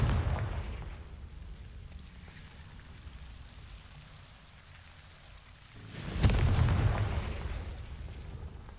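A Confringo fire spell blast in the Hogwarts Legacy video game, a loud booming burst that rises sharply midway and rumbles on for a few seconds over a low ambient bed.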